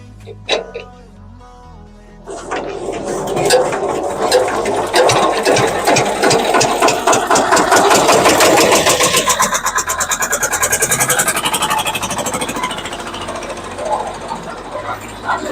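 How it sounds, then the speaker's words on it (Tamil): Engine of a one-bag hydraulic drum machine with power steering cranks and catches, then runs as a loud, close, steady hammering clatter for the remaining seconds after a short quieter opening. "இப்போ பார்த்தீங்கன்னா இன்ஜின் ஸ்டார்ட் ஆயிடுச்சு"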